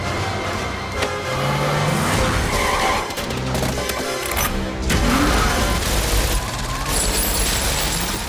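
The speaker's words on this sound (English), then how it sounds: "This engine is smooth as silk and makes a noise that modern cars just can't replicate." A classic silver birch Aston Martin DB5 runs with its engine droning steadily, loud and close, joined by squealing tires and mechanical noise.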